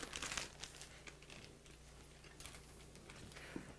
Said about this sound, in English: Have you ever cut a bag open?